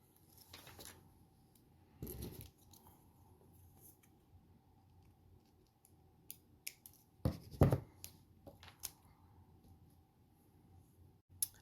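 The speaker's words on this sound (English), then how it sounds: "So I'm going to go ahead and cut all my bags." Plastic piping bags filled with glaze icing are snipped with scissors: a few short, quiet cuts and crisp clicks spaced apart, with soft handling rustle between them and no one talking.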